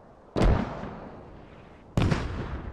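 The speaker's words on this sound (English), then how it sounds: "And maybe the mortars are walking a bit further east." Two heavy mortar impacts in the video game Squad, each a sudden booming blast that decays into a long rumbling tail, spaced about a second and a half apart at moderate distance.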